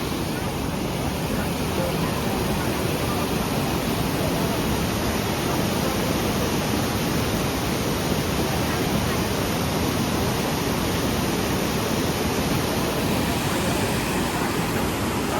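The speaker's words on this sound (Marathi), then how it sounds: "मेन हायलाईट आपला धबधबा" Napne waterfall roars with a steady, dense rush of water, loud and unbroken from start to finish.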